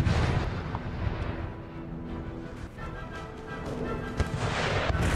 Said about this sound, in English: These artillery shells slam home.